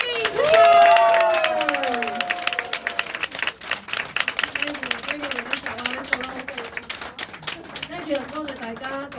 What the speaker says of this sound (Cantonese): 咁我哋用熱烈嘅掌聲歡迎我哋偉大嘅女人